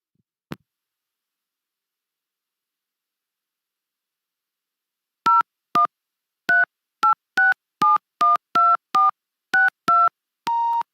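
Telephone dialing tones, a run of about a dozen short, clean beeps in an uneven rhythm after a single click and a long silence, ending on a slightly longer tone.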